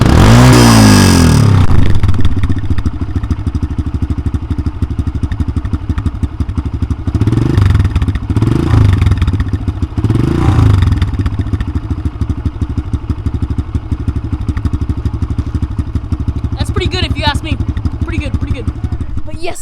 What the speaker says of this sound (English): Here is a cold startup of a Kawasaki KLX 140.